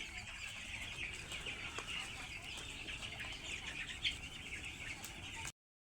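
Chickens cluck softly and steadily in a poultry barn with a constant background hum, then the sound cuts off abruptly.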